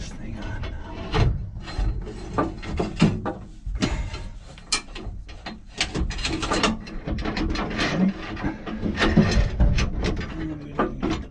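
Forced-air furnace blower motor being slid into place by hand, with repeated metallic scrapes, clunks and ratcheting knocks at close range in an irregular rhythm, with faint talk at times.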